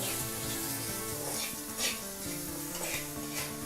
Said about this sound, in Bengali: নেড়ে মিশিয়ে নেবো একটুখানি